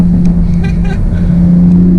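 Engine of a brand-new 2020 Toyota Supra with only 32 miles on it, pulling at under half throttle: a loud, steady drone with a strong low hum that rises slightly, close to the car and continuous throughout.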